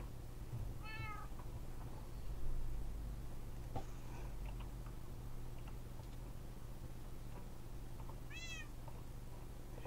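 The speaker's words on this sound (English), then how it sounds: "Shut up, cat." Two short, clear meows from a cat in the video game Minecraft, one near the start and one near the end, heard over a steady low hum with faint clicks between them.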